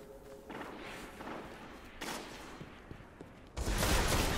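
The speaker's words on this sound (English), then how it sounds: "Please don't fail me now, guns." Gunfire in the video game Destiny, several shots and thuds in busy bursts over a noisy battle mix, ending in a louder sustained blast.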